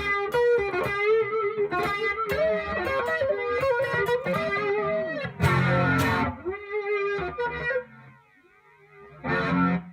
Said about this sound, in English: an interesting reverse delay there